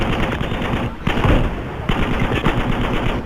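Gunfire in the video game Battlefield V, tank-destroyer mode: loud, dense bursts of rapid machine-gun and rifle shots, nearly continuous with a short pause partway through, close and punchy with heavy low-end booms.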